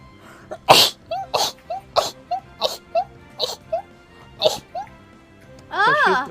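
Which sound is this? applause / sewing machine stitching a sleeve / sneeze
sneeze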